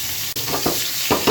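Pigeon meat fries in a pan with a steady close sizzle, broken by a few stirring scrapes near the end.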